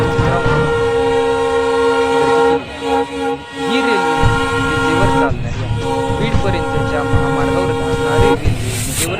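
A diesel train arriving in Beed sounds its horn in long, loud, sustained blasts over a heavy mechanical rumble, with a short break partway through.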